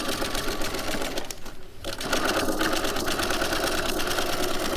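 A sewing machine zigzag-stitches around the edge of a contoured fabric head cover, running in a fast, continuous mechanical whir with a short pause partway through before resuming steadily.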